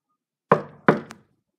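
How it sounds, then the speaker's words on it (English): Two firm knocks on a door, about a third of a second apart, close and distinct against silence. "Let me see if anyone else is gonna knock at the door."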